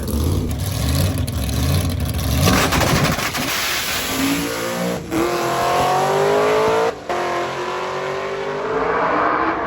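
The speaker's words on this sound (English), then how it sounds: "the distinctive sound of the blown Hemi of Mike Finnegan" Mike Finnegan's supercharged Hemi drag car at a drag-racing event roars at full power, its engine note climbing steadily in rising harmonic sweeps across a long pass with brief gear-change dips, loud and continuous with no talk over it.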